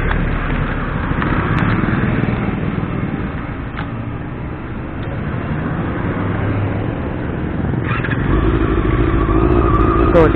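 A Honda CB1 motorcycle on a test ride gives a loud, steady engine rumble mixed with road and wind noise, close and continuous throughout, swelling slightly near the end with no talking over it.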